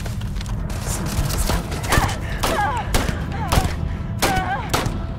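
Gunfire in the sci-fi game Starfield, a rapid series of sharp shots and laser-like zaps with ricochet whines, loud and close, mixed with a busy background of combat noise.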